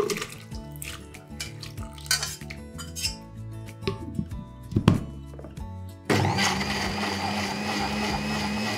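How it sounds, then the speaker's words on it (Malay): Boiled shrimp shells and heads are tipped and clattered into a blender jug with a few thunks, then the motor starts and grinds steadily and loudly for the last few seconds. "Masuk dalam blender, kisar halus."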